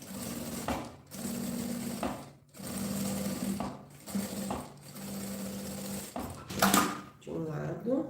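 A sewing machine stitches a fabric bag in several steady mechanical runs, each lasting a second or more and separated by short pauses. Someone speaks briefly near the end.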